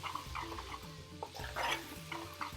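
Base gravy being stirred into spices in an aluminium pan for a king prawn curry, with soft scraping and clinks of a spoon over a low sizzle, close and fairly quiet, with no talking.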